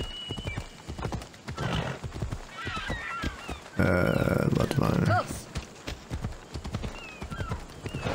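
A horse in Assassin's Creed Odyssey clip-clops along with steady hoof beats throughout and gives a loud whinny in the middle. Someone talks over the hoof sounds.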